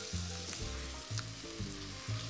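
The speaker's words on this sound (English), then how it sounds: "So now that we have our kale braising, get this all mixed in." Kale braising in a pan, sizzling steadily as it is mixed and stirred, with a few louder scrapes and tosses in a loose rhythm; no voices.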